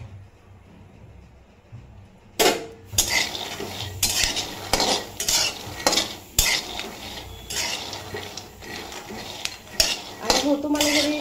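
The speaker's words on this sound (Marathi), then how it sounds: "आवाज येतोय बघा, आता सुरुवात झाली शेंगदाणे भाजायला।" Peanuts roasting in a pan for sweet Indian peanut laddoos, with loud repeated clinks and scrapes of a metal spatula stirring them close up, above a light crackle.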